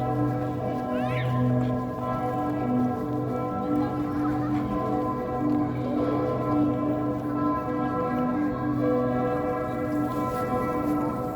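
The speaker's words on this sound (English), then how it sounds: "The bells, appropriately, mark the Cathedral of Notre Dame." The bells of the Cathedral of Notre Dame in Luxembourg City ring steadily at a distance, their sustained tones layered over a constant background hum, with no talking.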